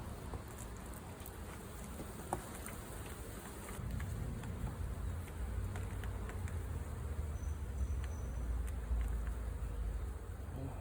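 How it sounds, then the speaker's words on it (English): Swarm of honey bees buzzing around a hive box during a swarm transfer, a dense continuous drone close to the mic that thickens midway, with faint handling bumps. "A lot of bees, a lot of pollen going in here."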